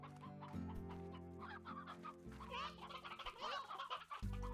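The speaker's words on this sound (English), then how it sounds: "you can also have yourself like a bit of a chicken farm if you want" Chickens on a Slime Rancher video game farm cluck repeatedly in soft, busy bursts, with a steady game soundtrack and synth tones playing underneath throughout.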